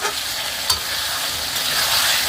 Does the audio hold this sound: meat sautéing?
yes